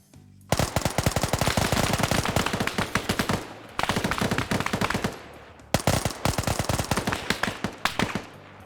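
Machine gun and MP7 fire in a military shooter video game during close-quarters fighting: three long, loud bursts of rapid automatic shots with brief gaps between them.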